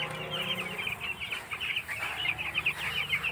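Broiler chicks cheep in a dense, continuous chorus of high, rapid peeps, close and steady throughout, with no talking.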